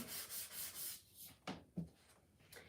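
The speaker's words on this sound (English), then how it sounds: "we're just sanding all these down, smoothing out our paint." Rhythmic rubbing strokes of sandpaper on painted wood, several passes close by, followed by a couple of light knocks and softer scraping.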